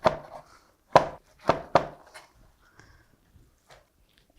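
A knife chops washed miyeok seaweed into bite-sized pieces on a cutting board: a handful of distinct, close knocks spaced irregularly, with quieter taps between them.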